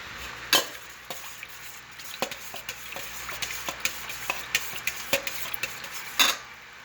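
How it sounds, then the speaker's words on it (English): A spoon stirring Hungarian goulash with meat in a pot, a steady series of scraping clinks against the metal, close and evenly paced, with no talking. "we're going to grab my spoon. We're going to mix it together."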